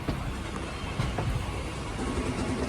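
A local commuter train runs on the rails between Ghaziabad and Delhi, with a steady loud rumble and rhythmic wheel clatter heard from on board, continuous throughout.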